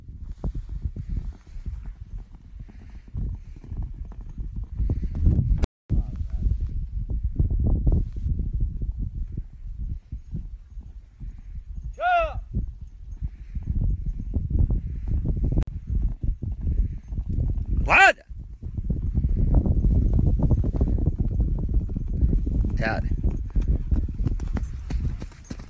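Hooves of a young horse clip-clopping steadily on the ground, close and loud, with a continuous rhythmic walk through most of the stretch and a few brief higher calls breaking in.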